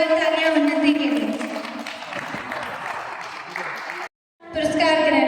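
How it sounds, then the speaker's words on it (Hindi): Loud applause from an audience at a school anti-drug event in Pithoragarh, steady dense clapping with a brief cut near the end before resuming. "एक बार जोरदार तालियां उन्नति के लिए।"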